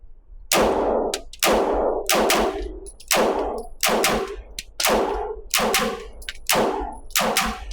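Repeated gunshots from an MP5K-style clone firearm (MAC MP5K in RAL 8000 finish), about ten sharp loud reports fired in a steady semi-automatic rhythm with short gaps, close to the shooter, no talking.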